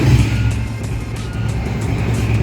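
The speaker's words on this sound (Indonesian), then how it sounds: "Bunyi knalpotnya kayak GL BTW" Minerva 150RX motorcycle exhaust idling nearby, a steady low rumbling drone with a continuous throaty pulse, alone and fairly loud.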